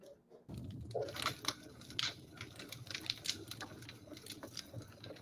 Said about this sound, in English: You can hear me typing too